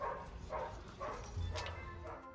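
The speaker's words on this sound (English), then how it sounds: "Sounds like the dogs in the back could use some, but Pascal, come here." Dogs bark faintly in the background, a few soft, distant yaps scattered through a quiet room.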